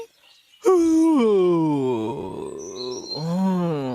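A crow's long, drawn-out groaning yawn that rises and then sags, ending in a shorter second moan, close and clear against an otherwise quiet background.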